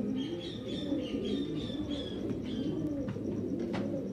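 Ali Wala fancy pigeons cooing in repeated soft throaty phrases, close and steady, with a few sharp clicks and faint chirps in the background.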